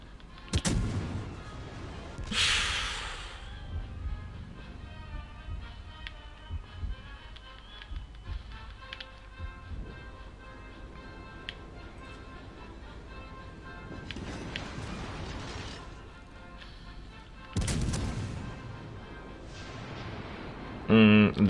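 Enemy ship gunfire in a naval video game, several heavy booming blasts spaced apart, with quieter thuds and engine rumble between them and a player talking throughout.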